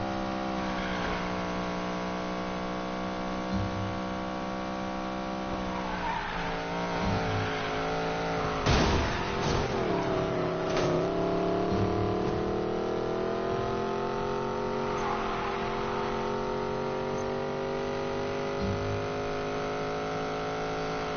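A racing car in a video game holds a steady high engine drone, revving and shifting through gears at speed, with a brief burst of harsher engine noise partway through and no talking.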